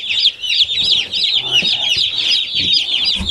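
A flock of about fifty broiler chickens clucks and cheeps continuously, close and loud, with overlapping high peeping calls and faint rustling beneath.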